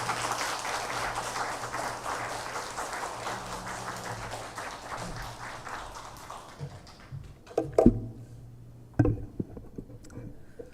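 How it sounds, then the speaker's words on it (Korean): A church congregation at a Sunday service applauds in welcome, with sustained, moderately loud clapping that thins out gradually, leaving a few isolated claps and knocks at the end. "우리 다 같이 박수로 이렇게 환영하겠습니다."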